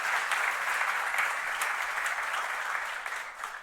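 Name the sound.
congregation applauding for Jesus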